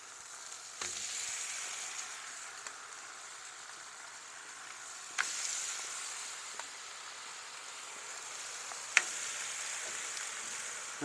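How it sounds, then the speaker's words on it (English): Tortillas dipped in deer fat hiss and sizzle steadily on a hot griddle, with occasional louder splatters and clatters as more are laid down, close and alone. "we're gonna dip these tortillas in that fat like that. And then throw them on that hot griddle"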